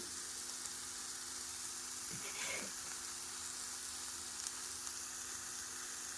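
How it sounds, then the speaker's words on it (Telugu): Curry leaves sizzle in hot oil in a pan for a kaju makhana curry, giving a soft, constant hiss with a brief crackling burst in the middle; it is fairly faint and plays alone. "ఇప్పుడు ఈ టైంలోనే కరివేపాకు కూడా వేసేసుకుందాం"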